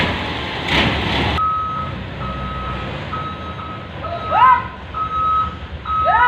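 A dump truck reverses while delivering a load of stones, its backup alarm sounding in steady repeated beeps over a low engine rumble, with a brief louder burst near the start and some bird-like chirps later.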